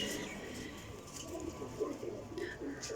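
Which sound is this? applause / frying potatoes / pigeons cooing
pigeons cooing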